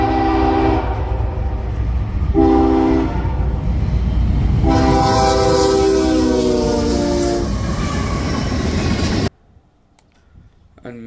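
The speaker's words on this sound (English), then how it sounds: "A few days later, I would see CSX M565 heading west with CSX Seaboard System Heritage number 1982." CSX freight train M565, heading west with CSX Seaboard System Heritage locomotive 1982, passes loud and close, sounding three horn blasts over rumbling wheels before the sound cuts off abruptly.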